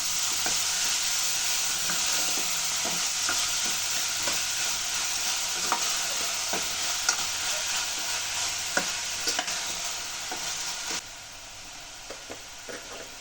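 Chopped cabbage is stirred through a hot pan for a cabbage-beetroot poriyal, giving a steady sizzle with repeated scraping strokes. The spatula clicks come at a fairly even pace, and the sound quiets near the end.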